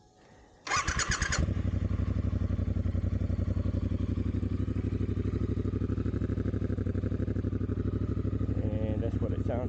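A 2022 Triumph Bonneville Speedmaster with a Dr. Jekill & Mr. Hyde exhaust in its closed setting starts up and settles into a steady, close, loud idle with a deep rhythmic thrum, briefly louder near the end.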